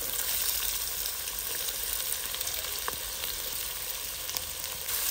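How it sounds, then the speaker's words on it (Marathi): Bay leaf and finely chopped onion frying in hot oil, a steady close sizzle with dense crackle that holds even and strong throughout, no voices. "आपलं तेल तापलंय, त्यात आता तेजपान टाकून घेऊ. त्यानंतर बारीक कट केलेला कांदा,"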